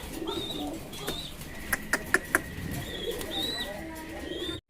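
Fancy pigeons coo and call repeatedly up close in a loft, soft rising murmurs mixed with a few sharper clicks and chirps, over low background noise.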